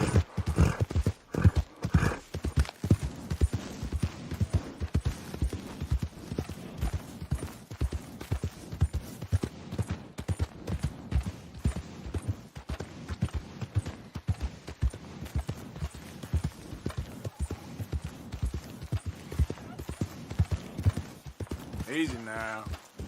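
A horse galloping in Red Dead Redemption 2, with a steady rapid hoofbeat rhythm running nearly the whole time, a brief whinny near the end, and a voice speaking over it.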